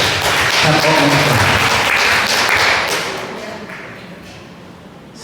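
A church congregation claps for a youth group at the close of a service, a sustained burst of applause that gradually fades and trails off over several seconds.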